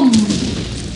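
A single dull boom from an explosion in the Blackshot video game, loud at the start and fading quickly, with no one talking.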